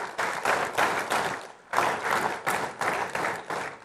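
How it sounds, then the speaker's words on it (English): A summit audience applauds sponsors with sustained clapping that swells in waves, briefly dips, then picks back up, dense and fairly distant. "A big round of applause to our sponsors."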